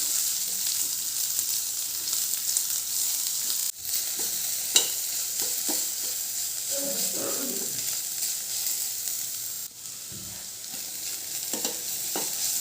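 Steady sizzle of finely chopped onions frying in a pan, with occasional stirring scrapes and clinks; no voices.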